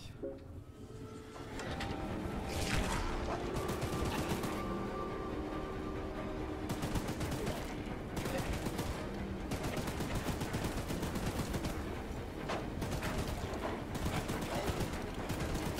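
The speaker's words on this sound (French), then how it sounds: "Je tire pas tout le temps, sinon mon truc il chauffe" A mounted weapon fires in rapid, sustained bursts in the video game Choo-Choo Charles, loud dense rattling that pauses briefly between volleys as the gun overheats.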